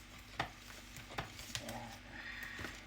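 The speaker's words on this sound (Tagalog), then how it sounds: "we need to mix all the ingredients" Batter for homemade puto cheese being mixed in a bowl, with soft stirring and scraping and a few sharp utensil taps against the side, close and fairly quiet.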